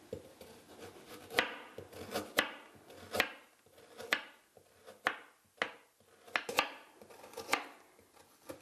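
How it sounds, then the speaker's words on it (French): A knife cuts carrots into thin slices on a board, each stroke a crisp chop, repeated in an uneven rhythm about every second, close and alone with no talking. "Nous allons les trancher, les découper en tranches assez minces pour en faciliter la cuisson."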